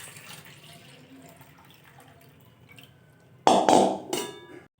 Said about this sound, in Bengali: ডালটা ভালো করে ধুয়ে জলটা ফেলে দেব।